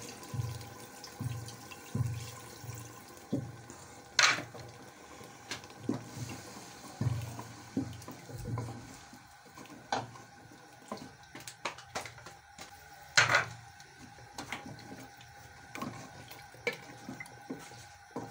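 Water splashes and trickles into a cooking pot of beef and bottle gourd curry in short, uneven pours, with faint clatter and no talking.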